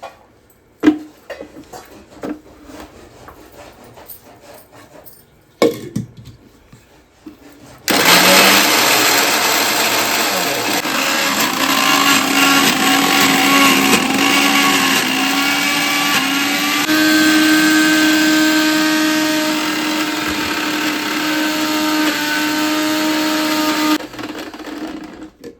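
A mixer grinder grinds garlic for a village-style mango pickle. After some handling knocks, it starts abruptly and runs as a loud, steady whirring drone for about sixteen seconds, its pitch shifting slightly, before cutting off.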